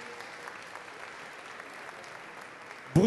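An audience at a winemakers' cooking competition applauds the first pair of contestants, a quiet, steady patter of clapping that ends with a sudden loud burst of a nearby voice.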